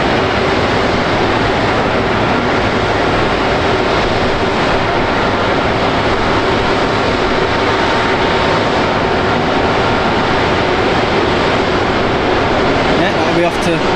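A jet airliner departing Manchester Airport for Dubai gives off a steady, broad engine roar throughout, heard from a distance outdoors as one continuous wash of noise.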